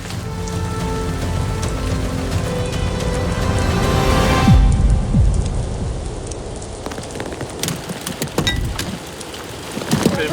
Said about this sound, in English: Who thought it could hail like this in Africa?